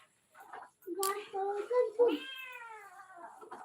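A cat gives a drawn-out, wavering meow close by, with a child's and an adult's voices chattering around it.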